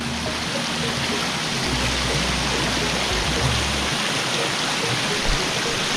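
A forest stream waterfall pours in a dense, steady rush that fills the whole stretch, loud and close, with no voices over it.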